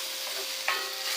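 A spoon stirs seafood marinara tomato sauce in a hot pan, a soft continuous sizzle with a brief scrape of the utensil, close and moderately quiet.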